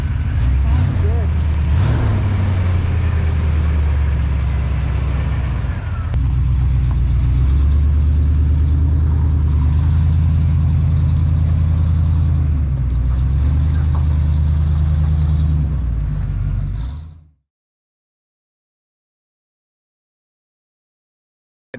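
A truck engine fitted with aftermarket fuel injection idles steadily with a deep, even rumble, loud and close, with a voice speaking over it before the sound cuts to silence.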